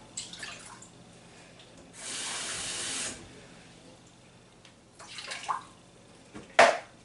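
Water runs and splashes into a steamer for about a second, with quieter clinks and drips around it in an otherwise calm kitchen.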